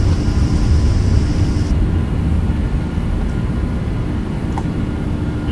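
A Boeing 767 jet in X-Plane 11 on its takeoff roll, a steady, loud engine roar with a low rumble that holds throughout, with no voices.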